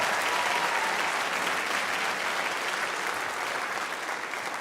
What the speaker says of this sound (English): So give yourself applause for that.